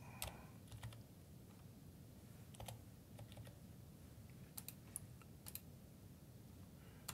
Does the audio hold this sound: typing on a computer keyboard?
yes